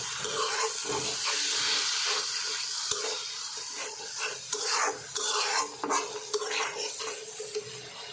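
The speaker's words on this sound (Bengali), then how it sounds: "আর একটু পানি দিয়ে মশলাটা ভালোভাবে কষিয়ে নেব" A spoon scrapes and stirs spices being sautéed with a little water in a pot for beef biryani, giving close, uneven rasping strokes over a low sizzle.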